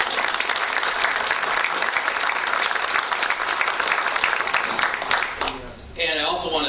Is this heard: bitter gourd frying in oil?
no